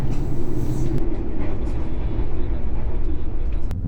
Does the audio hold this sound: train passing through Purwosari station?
yes